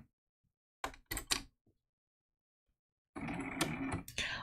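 Sewing machine stitching layered fabric applique for a quilt block, a few short mechanical bursts followed by a longer steady run of stitching, close and moderately loud.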